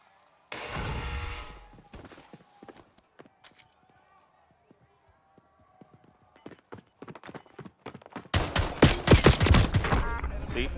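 Gunfire in the video game Call of Duty sounds as a short burst of shots near the start, sparse clicks and pops, then a dense, loud volley of rapid automatic fire near the end, with a voice talking over it.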